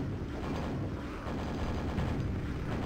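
A grenade blast in the DOS shooter Quake on a Nightmare-difficulty level, a dense, loud roar of explosive rumble that fills the whole stretch with no pause and no talking.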